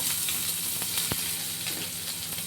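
Cumin, mustard seeds, curry leaves, ginger-garlic paste and onion fry for a dhaba-style chana masala, giving a loud bright sizzle with crackling pops and a sharp clink partway through.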